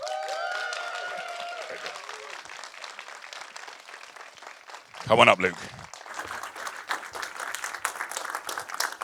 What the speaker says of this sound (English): A giant round of applause, please